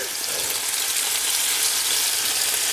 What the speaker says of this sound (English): it's stove's on high because you want to sear the outside of these rouladen bundles